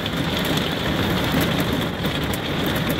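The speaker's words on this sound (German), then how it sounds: "es hagelt, es regnet" Heavy rain and hail drum steadily on the roof of a motorhome during a thunderstorm, a dense, loud, continuous patter with no talk over it.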